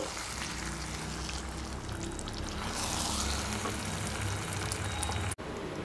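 Gongura sorrel-leaf paste is stirred into simmering chicken curry in a pot, giving a steady, close, dense sizzle and bubbling with soft scraping throughout and a brief dropout near the end.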